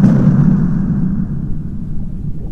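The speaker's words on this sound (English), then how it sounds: "The explosions were getting closer." A deep underwater explosion effect from an undersea horror story, a heavy low rumble that starts loud and slowly fades while the muffled roar lingers.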